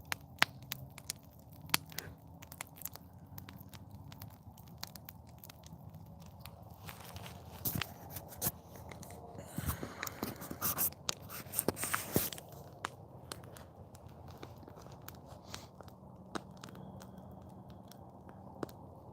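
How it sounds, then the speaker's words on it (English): Crackling campfire in a bushcraft shelter, with scattered sharp pops and snaps over a quiet low background, clustering into a denser burst of crackles midway before thinning out again; no talking. "I love the sound of a crackling fire."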